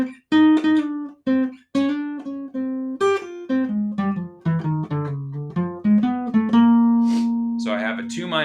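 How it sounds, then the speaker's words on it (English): Swing-style jazz guitar melody from a bebop etude, played alone with rhythmic ornamentation: quick plucked notes and short runs, some held longer, close and clear, ending with a brief sustained note. "I'm going to play the melody again with some rhythmic ornamentation."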